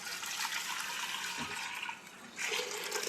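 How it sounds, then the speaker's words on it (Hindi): Hot rice water poured back into a cooking pot: a continuous loud rushing splash of liquid for about three seconds, with a brief dip before the pour surges again, no speech. "और फिर मैं ये चावल का पानी है तो ये पानी गर्म है तो फिर मैं वापस"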